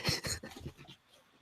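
A dog pants in quick, breathy bursts close by, with a faint whimper, the rhythm tapering off and growing quieter within a second and a half.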